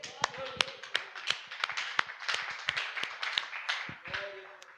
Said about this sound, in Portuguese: Salva de palmas a ele.